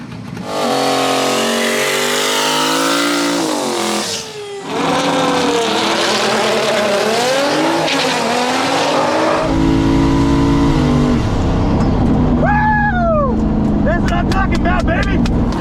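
A boosted GT-class drag racing car revs and accelerates hard, its engine pitch sweeping up and down through repeated loud pulls, then a sustained roar with sharp gear-shift whoops near the end; a voice speaks over parts.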